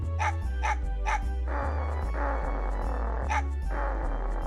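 A dog in the Mega Man Legends video game barks in a quick run of three sharp yips, pauses, then barks twice more over a constant low game hum.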